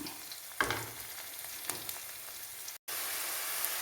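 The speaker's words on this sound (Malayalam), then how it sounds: "ഇനി നമ്മുടെ ചേനത്തണ്ടിൽ ചെറുപയറുകൾ വെന്തിരിക്കുന്നത് ഇതിലേക്കിട്ട് ഇളക്കും" Cooked green gram stirred into yam stems in a hot pan: a faint steady sizzle with a few scraping clatters from the spoon, close and without talk.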